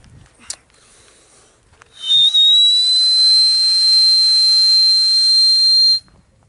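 A loud, piercing steam whistle blasts for about four seconds after a faint click, then cuts off abruptly, outdoors in snowy cold weather.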